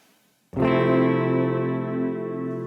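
A sustained, distorted guitar chord rings out suddenly after brief quiet, washed in lush reverb from a Quad Cortex that lingers and slowly thins.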